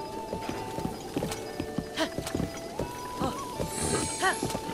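Horse galloping in the video game Zelda: Breath of the Wild, steady rhythmic hoofbeats pounding close and loud, with a brief whinny and background game sounds layered over the drumming gait.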